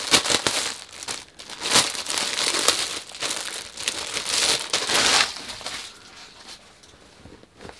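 Plastic packaging crinkles and crackles as it is unwrapped from a book-box subscription item, with bursts of rustling and tearing close by and no talking over it.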